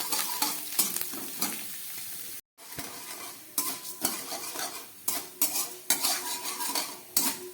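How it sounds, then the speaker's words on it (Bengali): Washed and dried urad (biuli) dal fries in hot oil over a low gas flame, a soft crackling sizzle broken by frequent clattering utensil stirs against the pan and one brief moment of silence. "আমি এই ডালগুলো এই তেলের মধ্যে দিয়ে দিলাম। দিয়ে একদম গ্যাস কম করে আমি খানিকক্ষণ এটা একটু ভেজে নিচ্ছি।"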